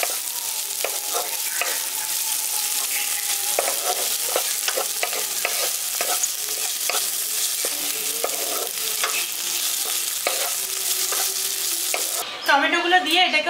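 Chopped tomato fries and softens in a pan for village-style brinjal bharta, a continuous close sizzle with repeated stirring clicks and scrapes, ending in a louder burst of bubbling.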